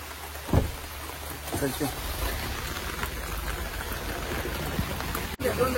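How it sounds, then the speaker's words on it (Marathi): A constant wash of rain hisses throughout, with people talking nearby over the downpour. "तरी पाऊस आहे"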